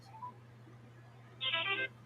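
A phone ringback on a call placed to a She-Hulk number: a brief faint tone near the start, then a single louder burst of ringing around the middle before the line picks up.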